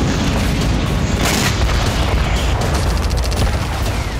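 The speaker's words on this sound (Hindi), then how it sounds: "रूस का दावा है कि क्रीमिया में तैनात एयर डिफेंस ने आधा दर्जन मिसाइलों को हवा में ही मार गिराया" Missile explosions from air defense interceptions over Crimea: a continuous, dense roar of blasts and booms with sharp cracks, loud and sustained throughout, with no voices.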